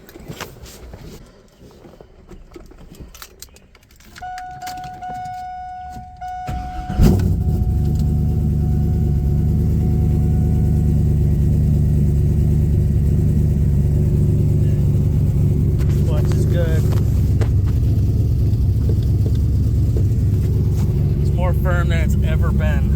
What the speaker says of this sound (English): So let's just go ahead and do a little cold start on it here.